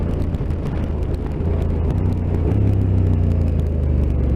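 A Honda NT1100 motorcycle engine shifting down through the gears, a loud, steady low rumble close by with a slight rise in pitch partway through, and no talk.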